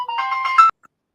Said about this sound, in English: who ringtone was that